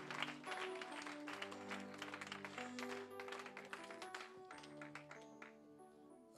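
A church congregation claps and cheers over steady keyboard music and sustained tones, a dense, lively patter of hands running throughout, with no speech.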